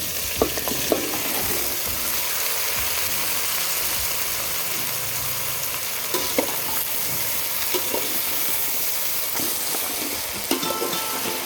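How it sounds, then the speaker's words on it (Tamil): Onion, tomato and chopped vegetables frying in oil for Chettinad sambar, a steady close crackling sizzle throughout with occasional soft stirring clicks, no voices. "காய் எல்லாமே எண்ணெயிலே நல்லா ஃப்ரை பண்ணி எடுத்துக்கோங்க."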